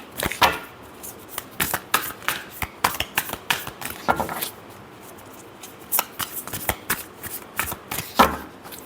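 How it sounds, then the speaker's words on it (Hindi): A deck of tarot cards is handled up close in two spells of brisk shuffling. Each spell is a rapid string of crisp flicks and soft slaps, and a brief quieter pause separates them. "last shuffle"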